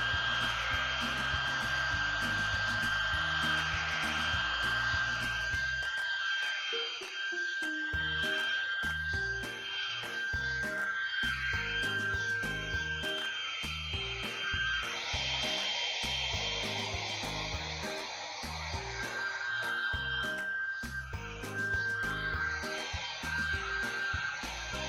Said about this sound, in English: now let's blow dry this level of layer of paint